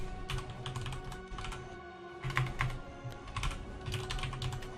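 Typing a wagon name on a computer keyboard for Black Desert Online, quick bursts of close key clicks in short clusters, with no talk over them.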